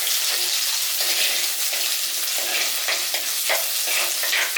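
Small shallots sauté in hot oil in a pan, a loud, close sizzle broken by repeated scraping stirs at irregular intervals, with no voices.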